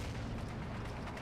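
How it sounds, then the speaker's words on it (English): A 75mm tank shell from a Sherman hitting in the Combat Mission: Battle for Normandy game, a brief dense booming blast with rumbling, noisy texture filling the short moment. "That was a 75mm shell from a Sherman, probably."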